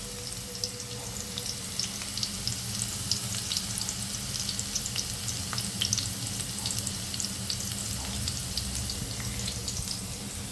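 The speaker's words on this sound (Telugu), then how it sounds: "ఒక 5 నిమిషాలు డీప్ ఫ్లేమ్లో ఫ్రై చేసుకుందాం." Drumsticks deep fry in a pan of oil for chicken curry, a continuous dense sizzle with scattered crackling pops, steady and close throughout with no voices.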